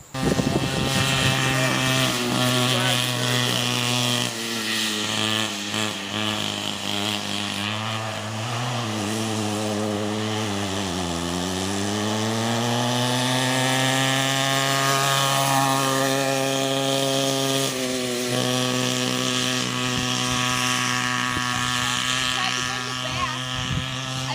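A small go-kart engine, the two-seater model, drones steadily throughout with a strong buzzing tone that dips and recovers in pitch as it bogs down, sounding close by and continuous.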